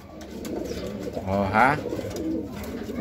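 A racing pigeon coos once nearby, a soft rolling call over steady background noise.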